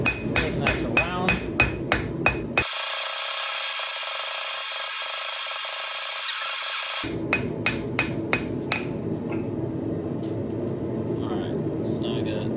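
Blacksmith's hammer rings on hot steel over an anvil, drawing a bar into a round taper for a forged hook; steady evenly spaced blows, a pause with a steady roar like a forge fire, then hammering resumes and slows.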